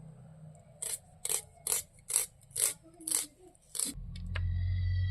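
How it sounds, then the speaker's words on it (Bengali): Onions are cut with a knife for a yogurt egg and eggplant curry, seven crisp rhythmic slicing strokes close up, followed by a louder low rumble and clatter. "4টে পেঁয়াজ আমি কাটে নেব।"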